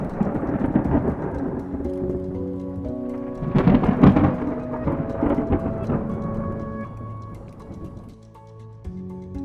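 Thunder rumbles through a heavy rainstorm heard from inside an abandoned church, a loud rolling peak midway over the constant hiss of falling rain.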